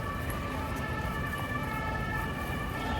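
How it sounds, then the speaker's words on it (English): Emergency vehicle siren on a Paris street, a steady wailing tone held continuously over loud city traffic rumble, fairly close and dominant throughout. "Anytime I hear a siren like that."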